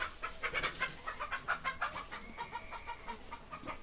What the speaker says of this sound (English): I don't want my dogs killing this guy's chickens.